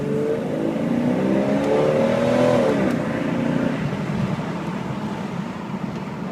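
A classic Jeep Cherokee engine revs hard through an acceleration pull, its pitch climbing steadily before easing off and settling into a lower drone, loud and close with no speech.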